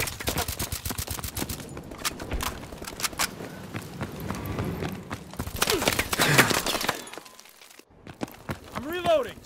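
A BAL-27 rifle fires in Call of Duty: Advanced Warfare, sounding as close, loud bursts of rapid automatic fire with short pauses between them, mixed with other battle noise and brief in-game voices.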